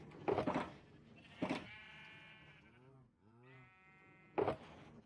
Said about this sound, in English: I'll free some of them here and start breeding them because we need about 4 more sheep